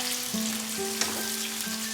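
Mango pieces for pickle fry in hot oil in a pan over medium heat, giving a steady close sizzle and bubbling with a brief clink partway through.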